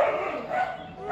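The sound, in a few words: dogs barking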